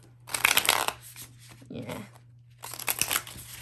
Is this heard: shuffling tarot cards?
yes